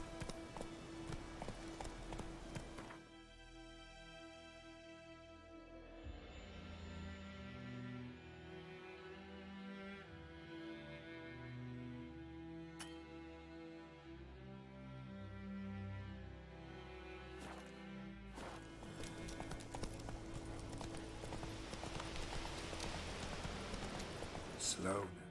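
Roach, a horse in The Witcher 3: Wild Hunt, moves with a steady clip-clop of hooves that changes pace. A voice talks over the hoofbeats, and a thud and a brief clatter break in partway through.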